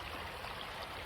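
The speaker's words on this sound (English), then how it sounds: "So this creek it goes on forever." Creek water flowing steadily over rocks and boulders in a gold prospecting spot, a close, continuous broadband rush.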